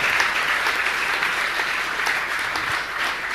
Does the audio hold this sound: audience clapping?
yes